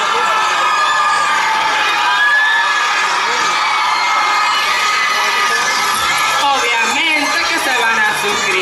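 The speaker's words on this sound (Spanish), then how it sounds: "Todos, todos, aplausos." A festival crowd at a media event cheers, shouts and whoops loudly and continuously, a dense close roar of many voices with children's high shouting, while someone talks over it.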